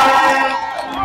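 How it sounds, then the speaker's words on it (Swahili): A crowd at a political rally cheers in a short, loud burst of many voices shouting together, with a single voice rising over the crowd. "Mpige makofi mengi sana."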